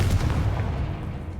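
A Confringo fire-blast spell in Hogwarts Legacy lands as a short, loud, boomy impact with a heavy low rumble that fades quickly.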